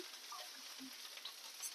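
Cabbage fries in oil in a pan, making a steady, faint, hissing sizzle with a few soft stirring taps, heard close and with no talking.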